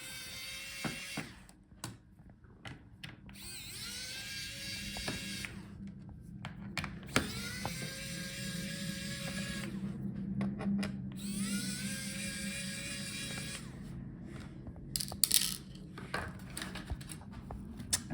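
Bottom case screws being undone on an HP Omnibook 3 15 laptop with a small electric screwdriver, giving repeated whirring bursts with brief pauses in between, close and steady over a faint background hum.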